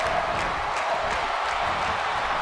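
A crowd in a WWE 2K18 wrestling arena, a steady wash of cheering and crowd noise filling the short stretch without letting up.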